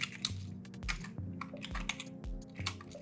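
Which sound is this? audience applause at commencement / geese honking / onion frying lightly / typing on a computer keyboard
typing on a computer keyboard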